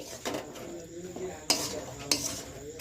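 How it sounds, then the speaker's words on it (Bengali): A utensil scrapes and clinks against a pan while motichoor laddu mixture is stirred, with a few sharp metallic knocks standing out amid soft shuffling, close and fairly quiet. "এই যে শুধু জাস্ট অনবরত নেড়ে চেড়ে নেব"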